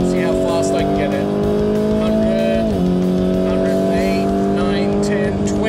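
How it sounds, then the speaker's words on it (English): A car brakes hard and corners on a test track, its engine droning loudly throughout with a pitch drop as it slows into the turn, tires working under strain. "slamming on the brakes coming into the turn here, really punishing this car as I turn the corner"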